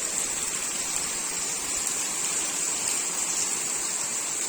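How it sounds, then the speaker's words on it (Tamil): Heavy rain pours down steadily in a village, a dense, even hiss with no pauses and no voices, constant and close throughout. "செம்ம மழை பெய்ய போகுதுன்னு. கரெக்டாக அதே மாதிரி மழை, சரியான மழை பாருங்க."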